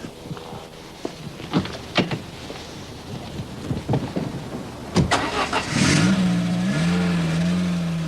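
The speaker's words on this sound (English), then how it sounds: "Now this engine's terrific. Basically it's the same unit you get in a Peugeot 205 GTI." Engine of a car sharing its unit with the Peugeot 205 GTI, revving with sharp bursts early on, then settling into a loud, steady running drone toward the end, with no talk.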